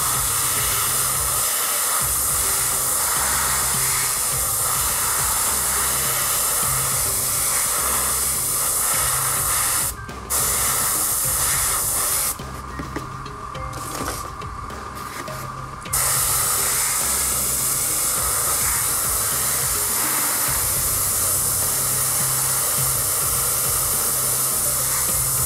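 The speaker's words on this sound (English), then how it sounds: "I spray a bit of paint, then air, and then paint, and then air again." An airbrush hisses steadily in close, continuous bursts, alternating paint and air onto a painted model, pausing briefly now and then before resuming, with no one talking.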